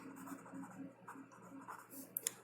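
Pen writing on paper during a math lesson on sequences and series, a soft continuous scratchy stroke sound up close with a couple of brief taps near the end, under quiet talk.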